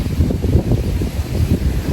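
Cold wind rumbles steadily against the microphone in low gusts at a dam, with an open outdoor feel and no talking.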